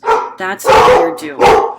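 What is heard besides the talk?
dog barking in the background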